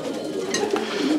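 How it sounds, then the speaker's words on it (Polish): Racing pigeon from a competition loft cooing softly, a brief low murmuring call with a couple of faint rising notes over steady background noise. "To jest oryginalny gołąb od Dietemajera"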